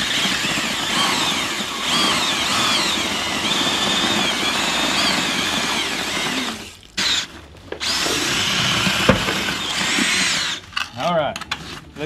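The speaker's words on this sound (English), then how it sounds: "we got a drill, we got a mixer, and this mixer just does okay" Power drill fitted with a mixer paddle churning concrete in a bucket, a steady whining grind running continuously for several seconds, then stopping and restarting in short bursts.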